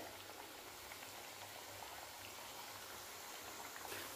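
Chirote pastries sizzle in hot oil as they fry until golden, a steady dense crackling hiss that continues evenly throughout with no talk.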